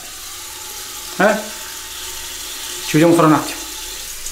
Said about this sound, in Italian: Ci andiamo a sciacquare il viso con l'acqua fredda